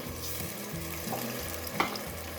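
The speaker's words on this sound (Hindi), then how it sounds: "अब हम इसको भूनेंगे, चलाएंगे, और साथ में हम डालेंगे इसमें टमाटर जो मैंने पीस के रखे।" Chickpea curry masala for Pakistani-style cholay ka salan frying in a pan, a steady low sizzle throughout with soft scraping stirs and one brief clink of a utensil.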